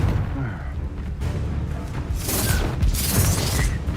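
Confringo blasting spell explosions from the video game Hogwarts Legacy, with loud bursts and crackling impacts around 2.5 to 3.5 seconds over a continuous layer of battle noise and game music.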